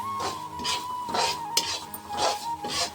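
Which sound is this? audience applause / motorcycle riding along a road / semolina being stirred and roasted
semolina being stirred and roasted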